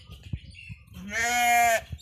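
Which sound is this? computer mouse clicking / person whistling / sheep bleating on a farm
sheep bleating on a farm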